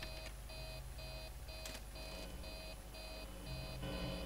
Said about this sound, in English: Oh god, the alarm!